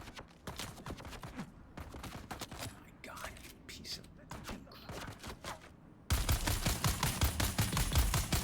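Gunfire in the video game Dune: Awakening, rapid bursts of shots in a dense irregular rhythm that get louder and more continuous near the end, with a voice talking faintly underneath.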